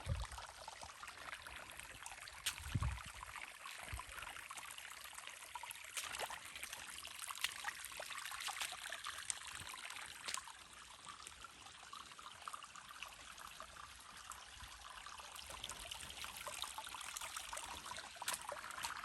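A mountain stream in the Great Smoky Mountains runs over rocks, a faint, continuous trickling and splashing of clear fast water heard alone at a low, distant-sounding level.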